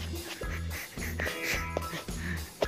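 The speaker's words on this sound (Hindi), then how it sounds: "अच्छा बत्तख है, तालाब में बत्तख आया है तो उनको भगा रहे हैं।" Several ducks on a village pond quack repeatedly in short nasal bursts, moderately close, over a steady low hum, with no talking.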